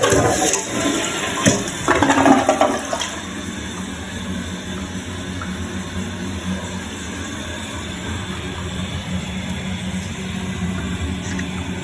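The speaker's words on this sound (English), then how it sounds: "All right, first flush." A newly installed toilet flushes nearby with a loud rushing surge of water in the first few seconds, then settles into a steady hiss as the tank refills for the rest of the clip.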